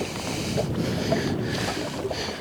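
Strong wind buffets a fishing boat out on the water, a steady broadband roar with gusty swells that stays close and loud throughout, with no voices.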